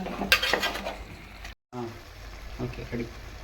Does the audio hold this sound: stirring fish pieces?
yes